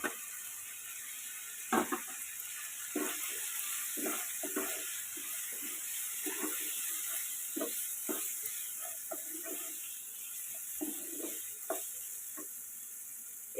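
Spoon scrapes and stirs through a sizzling pan as fried vegetables and dal are mixed into cooked-down masala for sago khichdi, a steady hiss broken by frequent short clatters and scrapes, close by, with no talk.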